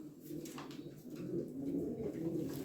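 A pigeon cooing softly and close by, a low, murmuring throaty coo repeating over a few seconds at faint level.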